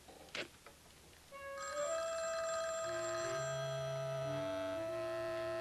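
A telephone rings with a steady, sustained electronic tone that follows a brief click and continues unbroken to the end, heard alone without voices.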